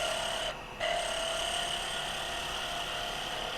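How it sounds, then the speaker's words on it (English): A spindle gouge cutting wood on a lathe while turning a hair pin, a steady high whine of the cut that drops out briefly as the tool lifts, then resumes evenly. "Got my spindle gouge out again"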